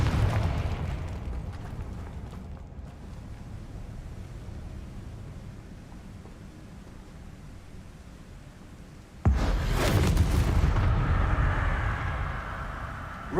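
A Confringo fire spell in Hogwarts Legacy bursts into a loud, sudden blast about two-thirds of the way through, after a stretch of rumbling game ambience, and then its roar slowly fades.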